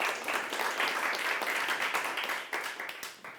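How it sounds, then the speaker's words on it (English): An audience at a science communication competition final applauds, with dense steady clapping that holds briefly and then fades out toward the end. "Very generous clapping, it's good."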